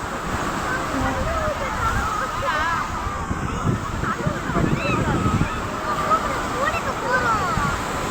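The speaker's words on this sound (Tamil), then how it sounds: "இப்போது பாருங்க எவ்வளோ சூப்பராக அலை வருது." Ocean waves wash onto a beach in a steady, rushing surge with wind noise, continuous and fairly close, while people talk over it.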